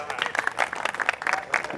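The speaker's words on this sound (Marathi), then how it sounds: "सरांसाठी जोरदार टाळ्या." An audience at a stock-market trading seminar gives a short burst of hearty applause, a dense patter of many hands clapping at moderate volume for under two seconds.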